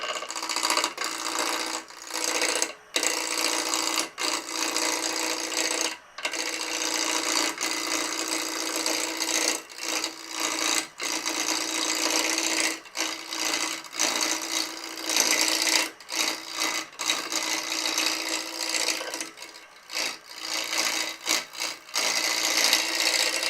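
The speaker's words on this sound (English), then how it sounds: "Starting with my 1/4-inch bowl gouge." A quarter-inch bowl gouge cuts a five-inch square block of wood spinning between centres on a lathe, giving a steady, loud scraping hiss with brief gaps where the tool lifts off.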